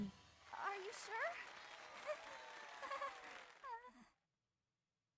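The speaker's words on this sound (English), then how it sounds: "applause for our talented participants" Applause and crowd reactions from the video game Fire Emblem Three Houses, a soft wash of clapping mixed with sighs and voices, fading out abruptly into silence.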